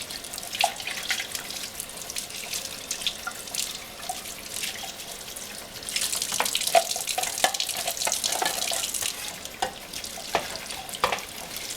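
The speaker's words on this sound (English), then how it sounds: "between juices, I just rinse" Tap water runs steadily over Omega 8004 juicer parts being rinsed in a sink, with splashing and dripping that grows busier partway through, close and moderately loud with no talking.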